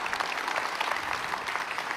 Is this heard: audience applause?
yes